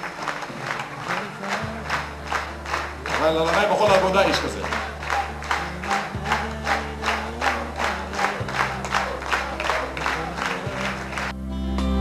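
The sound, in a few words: audience applause for Eli Shasho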